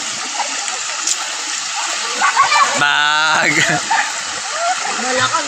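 Someone dives into a river in Sogod, Southern Leyte, with a short splash rising out of steady rushing water while people chatter and call out nearby.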